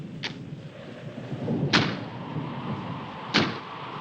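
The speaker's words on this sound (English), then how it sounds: "That's just the wind banging a door." A door banged by the wind in a 1959 thriller, three dull knocking thuds spaced about a second and a half apart, each with a brief hollow ring over a low rumbling background.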